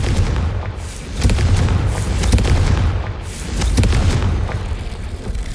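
A Confringo blasting spell explodes in Hogwarts Legacy, a heavy booming blast with rumbling low-end bursts swelling and fading repeatedly over a dense, continuous roar.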